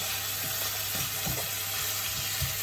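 Chorizo and chicken pieces sizzle loudly and constantly in a pan, with soft, irregular knocks from a utensil stirring them close by.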